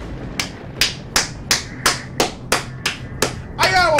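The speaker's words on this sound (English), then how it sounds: "I gotta applaud my own death there" Slow, evenly spaced hand claps, about nine sharp single claps at a steady rhythm, ring out close and loud, ending in a short flurry of faster clapping, with no talk over them.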